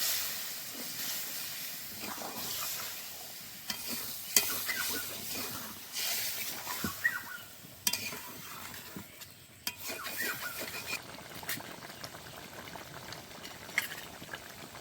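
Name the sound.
hot water added to frying soybean curry, hissing and boiling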